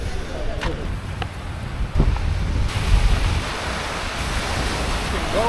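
Sea waves washing onto a beach near Varna, a broad rushing surf mixed with gusty wind noise on the microphone, steady and moderately loud with a few faint voices in the background.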